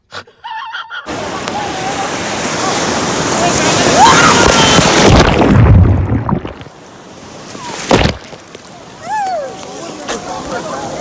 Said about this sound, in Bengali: বাবা ডবল ডবল ঢেউ ভাই